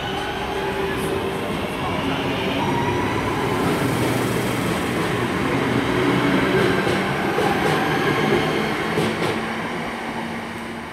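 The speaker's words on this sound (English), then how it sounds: "departing 323-207, heading for Lichfield, Trent Valley." A Class 323 electric train pulls away from Five Ways station in Birmingham with a steady rumble of wheels and rising motor whine, loud and close, along with faint clicks from the rails.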